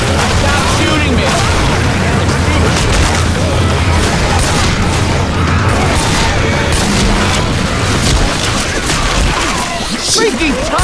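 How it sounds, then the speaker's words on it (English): A zombie shooter video game fills with continuous gunfire and booming explosions, a dense, loud barrage of overlapping shots with players shouting over the din. "Stop shooting me!"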